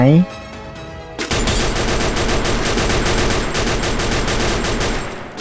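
Gunfire in the video game Free Fire: after a brief tonal sound effect, a long, loud burst of rapid automatic shots rattles on evenly for several seconds.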